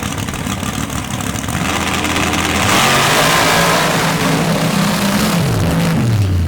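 A bright orange Chevy S10 dirt drag truck with an 815 cubic inch big-block Chevrolet runs loud at a dirt drag strip, a rough steady engine roar that swells partway through and holds strong, with no voices over it.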